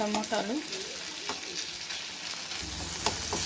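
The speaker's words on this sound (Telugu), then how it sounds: "టమోటాల్ని గరిటతో ఇలా స్మాష్ చేసుకుంటే బాగా వస్తుంది" Tomatoes being smashed with a ladle as they fry in a curry pan, a dense close sizzle with scraping strokes of the ladle throughout and a brief voice near the start.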